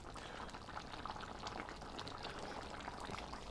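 Hamburger, pasta and cheese soup bubbling steadily in a single pot on the stove, a constant close simmering burble with no talk over it.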